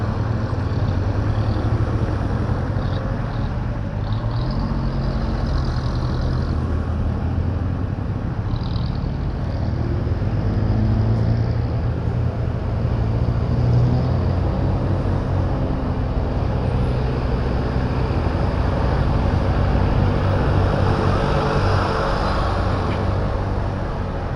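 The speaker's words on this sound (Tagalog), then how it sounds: "Sobra na ang traffic dito." Heavy weekend road traffic near the Botanical area on the way to Ambuklao Dam, heard as a steady, dense engine rumble that continues for the whole stretch with no voices.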